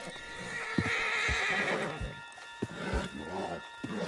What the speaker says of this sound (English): Put Strauss on the back of John's horse